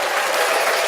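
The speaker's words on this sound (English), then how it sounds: "It's applause, you know." A burst of audience applause, loud and dense, filling a brief moment on its own.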